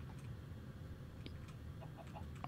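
A chicken clucks in the Minecraft game, several short soft clucks scattered over a low steady background hum, faint and in the distance.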